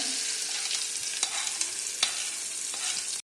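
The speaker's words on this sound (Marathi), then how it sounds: "ह्याच्यामध्ये ही फोडणीची आहे ती पूर्णपणे मिक्स करते" Sizzling tempering is stirred into a chutney, a hot crackling hiss close up with a few sharp scrapes and taps of the spoon before it cuts off abruptly.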